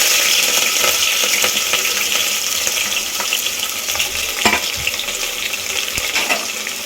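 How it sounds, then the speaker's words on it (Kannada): Green chilli, onion, bay leaf, cinnamon, pepper, cardamom and cloves fry in hot oil as tempering for methi pulao, a loud continuous sizzle broken by scattered spatula scrapes and clinks close by. "ಈಗ ಹಸಿಮೆಣ್ಸಿಕಾಯಿ ಈರುಳ್ಳಿ ಒಗ್ಗರಣೆ ಹಾಕ್ತಾಯಿದ್ದೀನಿ"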